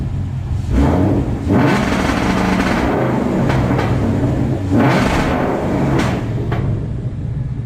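A car engine bouncing off a newly fitted 2-step launch limiter: a loud, close, sustained roar with repeated surging bursts and cut-outs, nobody speaking.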